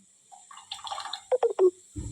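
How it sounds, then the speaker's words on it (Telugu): Tamarind juice is poured into a fish curry pot, a short liquid splash and trickle with a few quick gurgling pours, close and clear, ending in a denser splash. "ఇంకా చింతపండు రసం వేసి బాగా మరగనీయాలి."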